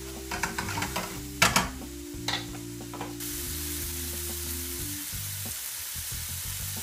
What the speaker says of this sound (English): we are going to add our peas into the bacon and fry them off as well